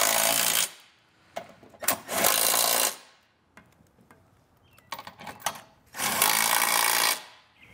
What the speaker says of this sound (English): you can come back with a 3/4 inch socket and snug it all down